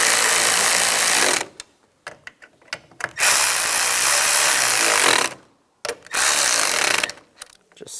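A power tool drives the mirror mounting nuts on a Dodge Durango door, running in several loud close bursts of a few seconds each, separated by short pauses and quiet clicks.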